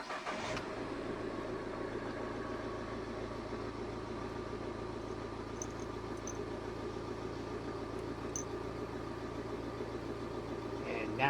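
A van engine starts with a brief crank and settles into a steady mid-pitched idle that hums on evenly; a voice speaks faintly beneath it.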